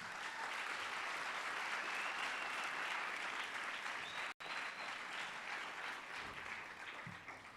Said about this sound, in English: So please give applause